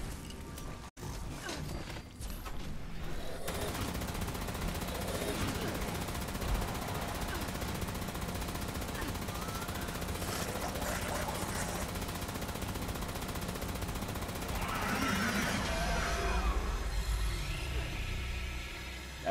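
Fusion weapons fire in a video game in a dense, sustained stream of rapid gunfire and mechanical clatter, with a player talking over the action.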